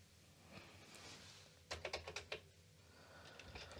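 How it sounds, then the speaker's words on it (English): Keys are struck on a restored Commodore VIC-20 keyboard: a quick run of about six clicky keystrokes, then a few lighter taps, all over a faint steady background hiss. "Let's test and see how the keyboard is working now."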